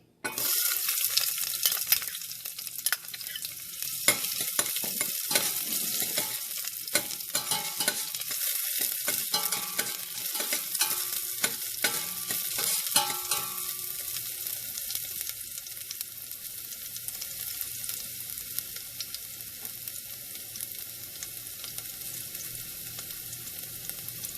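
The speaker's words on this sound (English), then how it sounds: "When the oil is hot, I am going to add ginger and garlic." Ginger and garlic fry in a tablespoon of hot cooking oil, giving a steady, close sizzle with occasional stirring scrapes and crackles that runs on alone for the whole stretch.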